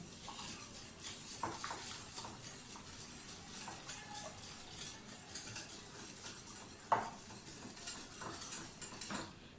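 A spoon stirs icing sugar into a pasta salad dressing in a bowl, producing faint, quiet clinks and scraping taps of metal on the dish at an uneven pace, with one sharper knock midway.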